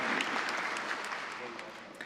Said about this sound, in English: I would like to give him a big round of applause